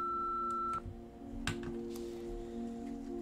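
An answering machine beep in the Nancy Drew: Midnight in Salem game, a single sustained electronic tone that cuts off abruptly, followed by faint clicks and a low hum of line noise.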